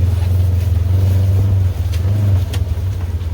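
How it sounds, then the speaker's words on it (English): A Ranger utility vehicle drives a short distance to a shed on a ranch, its engine giving a steady, loud low drone close by with no talk over it. "I'm just gonna pull over to the shed and get the Ranger out of the way."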